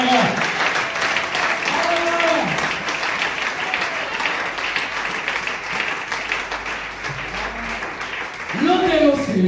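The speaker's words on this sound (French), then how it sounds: "Applaudissez pour le Seigneur" A church congregation claps and cheers during a French-language sermon, a loud steady patter of hands with shouting voices rising over it at the start and again near the end.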